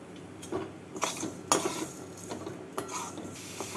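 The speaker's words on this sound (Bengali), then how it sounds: "চিনি গুঁড়ো দুধ আর নারকেল দিয়ে নাড়াচাড়া করে নিয়ে" A spoon stirs a filling of grated coconut, sugar and milk powder in a wok for taler rospuli, making several sharp scraping clacks at an uneven pace, close and fairly quiet.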